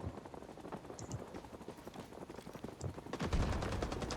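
Rapid automatic gunfire from a Vietnam-era battle in Rising Storm 2: Vietnam, distant bursts early that swell into a dense, loud volley of close shots near the end, with no talking.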